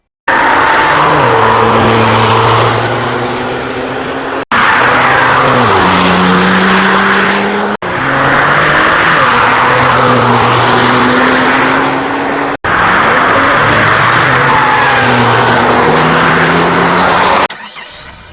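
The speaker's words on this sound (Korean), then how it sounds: "테스트 중인 스팅어 페이스리프트 차량의 우렁찬 배기음을 잠시 들어보시죠" A loud, roaring Kia Stinger facelift variable exhaust passes repeatedly on the Nürburgring, rising and falling in pitch with brief cuts between passes, no voices.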